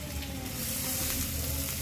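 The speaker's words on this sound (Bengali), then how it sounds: "এটা আবার হালকা একটু ভেজে নেওয়ার পর এটাতে আমি বিলাতি কুচি দিয়ে দিলাম।" Ginger, garlic and chopped tomatoes fry in a pan for a potato and okra dish, making a close, steady hiss of sizzling that stays even for about two seconds without any talk.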